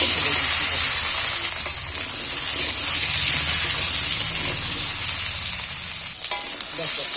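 Potatoes and taro fry in hot oil in a wok with a loud, steady, close sizzle that runs the whole time, with occasional faint stirring scrapes and no talking.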